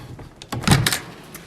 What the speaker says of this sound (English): I'm just going to open up this door